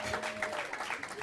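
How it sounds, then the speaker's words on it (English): Audience applause fills a hall as a couple is welcomed to the stage, a dense, continuous patter of many hands, fairly soft, with voices faintly underneath. "Let's give them a clap until they take their seats."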